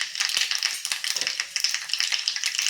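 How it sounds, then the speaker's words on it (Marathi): Mustard seeds, cumin and asafoetida crackle in hot oil for chitranna lemon rice: a close, steady spatter of rapid, sharp little pops over a bright sizzle, with no talking. "आता मोहरी छान तडतडायला सुरुवात झाली की त्यामध्ये एक चमचा जिरे घालून घेऊया"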